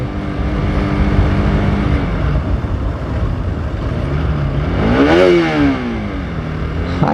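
A motorbike engine runs loudly and steadily on a rough public road, with a rising, wavering whine near the end that gives it an odd, strained sound.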